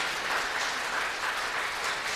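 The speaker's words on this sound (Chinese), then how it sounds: "拍手鼓励一下。" A crowd claps together in steady, dense applause, sustained and even for a couple of seconds.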